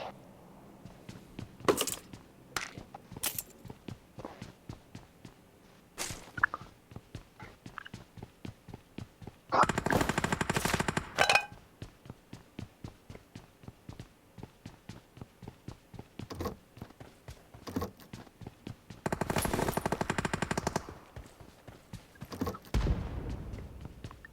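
Gunfire in the mobile shooter PUBG Mobile comes as rapid strings of sharp shots, some isolated, some in dense bursts, with two sustained loud blasts of noise in the middle and later, all fairly close and punchy.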